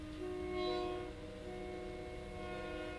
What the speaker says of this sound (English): Sorry, train.